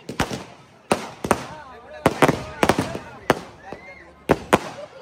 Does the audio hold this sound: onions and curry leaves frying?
no